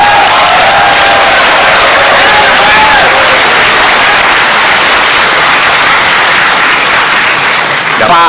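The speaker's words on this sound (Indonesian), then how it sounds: "Kita berikan tepuk tangan kalau itu." Loud, dense crowd applause mixed with cheering fills a televised 2014 Indonesian presidential-candidate debate hall, sustained for about eight seconds with a faint whistling tone running through it.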